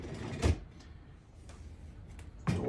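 A Samsung refrigerator door being handled during an all-around cooling fan replacement, with two solid knocks about two seconds apart and faint rustling between them, close by with no talking.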